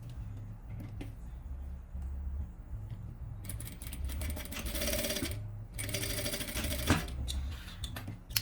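A sewing machine runs in two bursts, stitching a seam on a luxury toiletry bag, with quieter handling sounds and a low hum between the runs.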